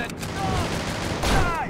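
Gunfire from the video game Urban Chaos Riot Response, a few rapid shots crackling over game sounds and a voice talking, with a louder burst near the end.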